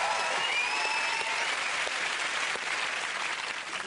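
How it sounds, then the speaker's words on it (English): A studio audience on a comedy news show breaks into sustained, dense applause, a steady loud clapping that lasts throughout and fades slightly near the end. "Well, that's worth a round of applause"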